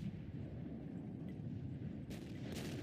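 A tank cannon fires in World of Tanks while driving an M6 tank, a deep booming shot over a constant low engine rumble, with a sharper burst near the end.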